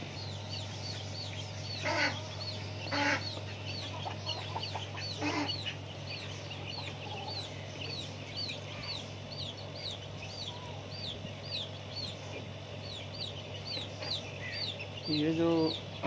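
Egg-laying hens cluck and chatter in short repeated calls throughout, close by over a steady low hum, with someone speaking at intervals among the birds.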